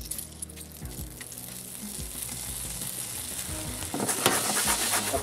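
Lemon juice sizzles hard in nutty browned butter in a pan, a steady close frying hiss with soft crackles that flares louder toward the end, no voices.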